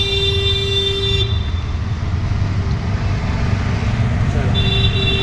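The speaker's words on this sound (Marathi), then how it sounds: "खूप ट्रॅफिक असते आता रस्त्याला." Heavy road traffic on the Mumbai–Khed NH66 highway rushes past a moving auto-rickshaw, a loud constant rumble with a sustained horn blaring at the start and again near the end.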